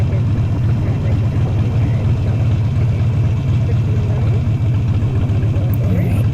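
An engine runs loud and close as the throttle is engaged while the clutch is eased out, a dense, steady low rumble that holds throughout with no distinct rise in pitch.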